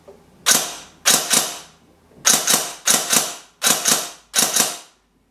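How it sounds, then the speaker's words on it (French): Ball catch pressed on an AIRO airsoft training weapon, giving six short sharp mechanical clicks, most of them doubled, spaced across a few seconds, close and clear with no talking. "J'appuie sur le ball catch."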